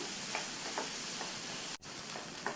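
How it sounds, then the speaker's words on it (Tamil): Onions sautéing in a pan for ragi roti, a steady soft sizzle with faint stirring scrapes throughout, briefly cut off near the end before resuming. "இந்த வெங்காயம் வதங்கி கொஞ்சம் சுருங்கி வரணும்"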